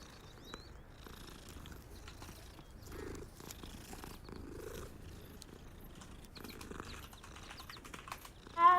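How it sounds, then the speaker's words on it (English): A cat purrs softly and continuously close by, with faint keyboard typing and small clicks mixed in and a brief louder rustle at the very end. "I hear you purring."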